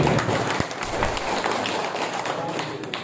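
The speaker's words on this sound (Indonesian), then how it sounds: "tepuk tangan untuk beliau" People gathered at a morning village meeting in Indonesia clap briefly, a moderate patter of applause mixed with murmuring voices.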